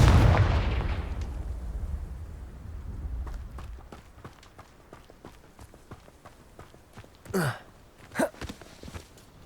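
A Confringo fire spell explodes in the Hogwarts Legacy video game with a loud booming blast that decays over several seconds, followed by scattered footsteps, clicks and a couple of sharper whooshing hits.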